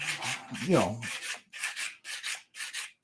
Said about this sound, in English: You know, you want to sand it.